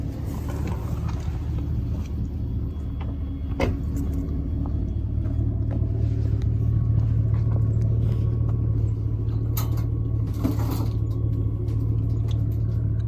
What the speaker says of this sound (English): I'm gonna leave the truck running.